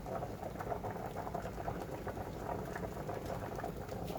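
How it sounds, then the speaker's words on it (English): A pot of water with potatoes boils on a stove set to low, bubbling and popping in a steady, soft, close-up simmer with no voices. "Look at that boil."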